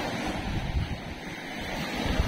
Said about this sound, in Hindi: देखना लहर जब आएगी तो फुल तेज आएगी।